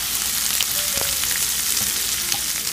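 Hotdogs frying in a pan with garlic and onion give a loud, even sizzle, steady and close, with a few faint clicks of stirring.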